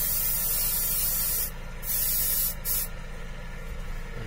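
Paint is sprayed from a spray gun onto a Batman prototype build in a steady hissing stream, close and loud, broken by two short gaps where the trigger is released.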